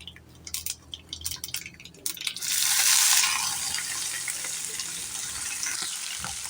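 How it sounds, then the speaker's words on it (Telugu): Chopped onion, green chili and curry leaves dropped into hot oil in a pan, a burst of loud hissing sizzle after a few scattered crackles, then settling into a steady fry. "ఉల్లిపాయ, పచ్చిమిరపకాయ, కరివేపాకు ఇవన్నీ వేసాం కదా, చక్కగా అటు ఇటు తిప్పుకుంటూ ఫ్రై చేసుకోవాలి"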